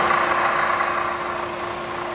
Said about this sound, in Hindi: आपको इस गाड़ी का मैं इंजन भी चेक करवा देता हूँ।